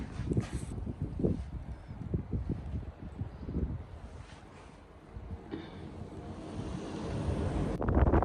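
Strong wind gusts roar and buffet the microphone during an Edmonton snowfall, a loud, rumbling rush that rises and falls and then swells again at the end.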